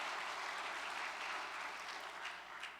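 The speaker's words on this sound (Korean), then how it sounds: "이렇게 해주신 분들께 감사의 박수를 좀 올려주셨으면 좋겠습니다." A congregation at a church service applauds after a choir hymn and a violin performance, a faint, distant wash of steady clapping from a large room.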